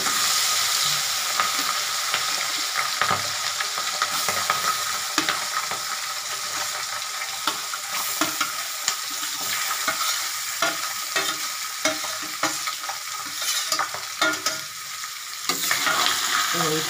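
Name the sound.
fish frying in hot oil in a pan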